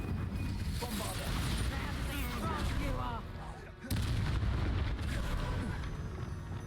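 Bombarda spell blasts in the Hogwarts Legacy video game come as repeated booming explosions and crackling bursts over dense combat noise, with a brief dip before another loud burst, while a voice talks over the action.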